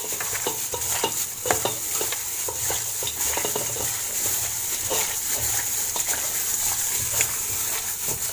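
Chicken satay seasoning mixture with salt, MSG and bouillon powder being stirred in a pan, a continuous scraping and sizzling texture with rhythmic utensil strokes, close and fairly loud throughout.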